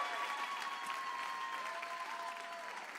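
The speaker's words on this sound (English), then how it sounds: "Let's give her another round of applause" Audience applause fills a gala hall for a woman donor after a generous donation, steady dense clapping throughout, with faint tonal hum beneath.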